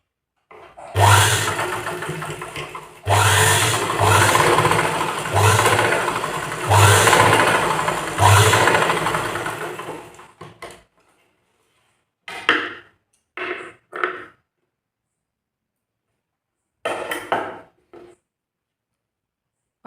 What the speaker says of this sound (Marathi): या ठिकाणी सरळ मी परत एक दाब शिलाई देऊन घेतलेली आहे।